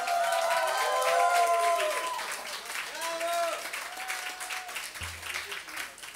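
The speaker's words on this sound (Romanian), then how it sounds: "Vreau să aplaudați și să țipați, în primul rând," A live concert crowd in Moldova applauds and cheers, a dense, steady wash of clapping with voices rising over it.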